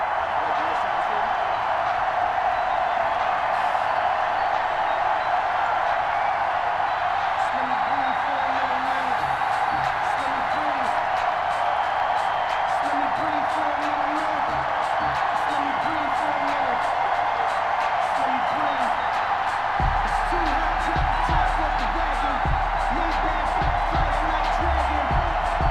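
Stadium crowd roar from a sold-out Bills home game against the Seattle Seahawks in Buffalo, rendered in a Madden NFL football video game: a constant wash of cheering under a commentator's voice, swelling slightly near the end.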